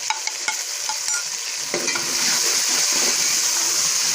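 Tomatoes are stirred and fried in a pan with fried onions and chonge (Caralluma fimbriata), giving a steady close sizzle with scraping spoon strokes that grows slightly louder and denser toward the end.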